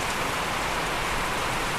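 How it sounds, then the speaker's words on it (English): Heavy rain pours steadily outdoors near a sawmill and a wood fire, a dense, even hiss of drops pattering on surfaces that holds constant from start to finish with no voices. "because it's raining pretty hard."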